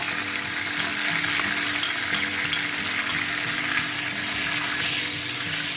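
Chili and garlic paste with cumin sizzles steadily in butter and oil, a close, continuous crackling fry with no voices over it.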